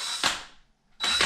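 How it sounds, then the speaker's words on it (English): A power drill spins up twice in short bursts while tightening a carriage bolt, each a loud close whir that winds down, with a brief pause between. "your drill is just going to grab that carriage bolt and we'll tighten it a little bit"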